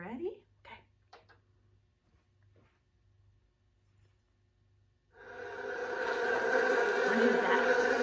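A bee buzzes steadily and fairly close for the last few seconds, a sustained droning hum that follows a quiet stretch opened by brief speech.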